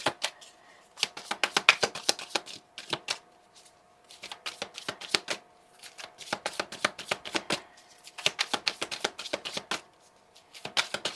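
Playing cards are shuffled and drawn in several bursts of quick, crisp riffling close by, broken by brief pauses.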